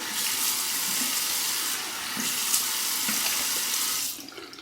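Hot water runs from a bathroom tap into a sink, a steady close hiss and splash that continues evenly before trailing off at the end.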